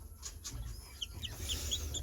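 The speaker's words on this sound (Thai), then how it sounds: "ไก่ เขาบอกว่าเป็นไก่สายพันธุ์ที่เล็กที่สุดในโลกครับ" Chickens of the world's smallest breed cluck and chirp softly at close range, a few short high calls rising over a low background hum.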